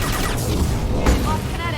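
Heavy gunfire in the game Mass Effect 2 roars as a loud, continuous wall of weapon noise, with one stronger blast just past the midpoint.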